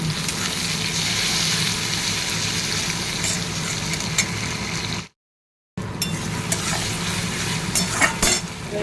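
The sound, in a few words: frying and stirring onions in oil in a pan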